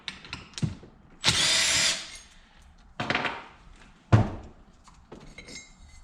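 A power tool whirs in short bursts with metallic clinks between them, close up, as the clutch is pulled from a junk Yamaha YFZ450 ATV engine during a teardown.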